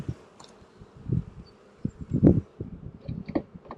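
Honey bees buzz close by at an open hive, short humming bursts rising and fading among soft rustles and handling noises, with no talking.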